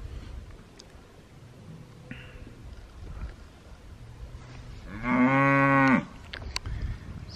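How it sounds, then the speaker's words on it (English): A single loud cow moo from a cattle herd rings out for about a second amid outdoor wind and faint background noise in Wyoming. "That's a nice herd. Cattle."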